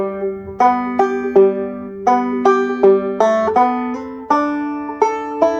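A two-finger thumb-lead banjo picks a phrase of the fiddle tune Cold Frosty Morning, bright plucked notes ringing out in a steady, unhurried rhythm, played solo and close.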